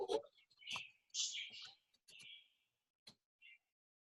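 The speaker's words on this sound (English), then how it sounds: "I think I hear little birds in the background." Small birds chirp faintly in the background of a quiet indoor space, giving a few scattered high chirps and short trills with silent gaps between them.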